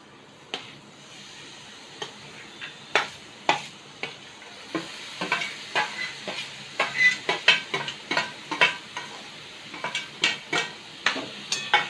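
Tender jackfruit vegetable stir-fried in hot oil with garlic, a soft sizzle beneath repeated clinking scrapes of a spoon stirring the pan at an irregular, quickening pace.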